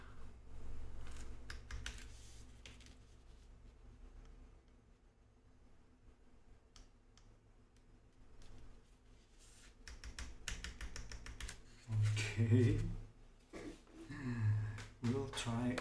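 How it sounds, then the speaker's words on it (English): Keycaps being pressed onto a Monokei Hiro keyboard, a tight fit on brand-new caps, give a run of close plastic clicks and taps, with sharper snaps near the end and a voice talking over parts of it. "it's really tight for a brand new keycap."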